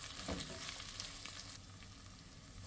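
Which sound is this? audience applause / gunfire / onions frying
onions frying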